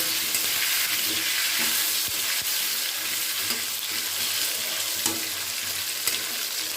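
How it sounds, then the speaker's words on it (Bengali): Potatoes with turmeric and salt are stirred in a frying pan over a loud, continuous sizzle, with occasional soft scrapes and turns of the spoon, close and without talk. "একটু হলুদ একটু নুন দিয়ে আলুটাকে খুব ভালো করে দিতে পাল্টে নাড়াচাড়া করে নেব"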